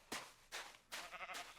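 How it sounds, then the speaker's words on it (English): Goats in the Minecraft video game bleat three or four times in quick succession, short nasal cries spaced under a second apart, faint and alone. "Goats."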